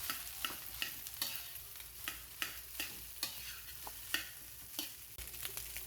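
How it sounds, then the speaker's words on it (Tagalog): Rice with garlic stirred in a pan, a spatula scraping in a steady series of quick strokes over a soft sizzle, fairly quiet and close. "Mix lang natin guys para mahalo yung mga bawang doon sa rice."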